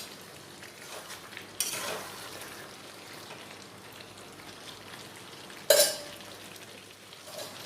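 Fried potatoes are stirred into chicken masala in a pan over a soft, steady sizzle, with two sharp metallic clanks of a spoon against the pan and quieter scraping between them, nobody speaking.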